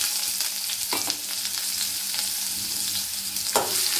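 Chopped ginger frying in a pan, a loud continuous close-up sizzle with a couple of brief spoon scrapes and taps, and no voices.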